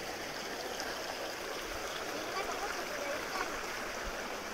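Stream water flowing steadily at a river bathing spot in Binaliw, a continuous broadband rush with no breaks, moderately loud and close.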